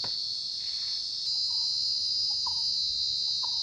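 Dense night insect noise fills a forest near a dormitory in the Kalakkad Mundanthurai reserve: a constant, piercing high-pitched cricket whine, briefly swelling, with a few short lower chirps repeating in the background.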